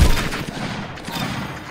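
Dense, rapid gunfire from the Roblox shooter Arsenal, with overlapping shots crackling continuously at close range and loud throughout.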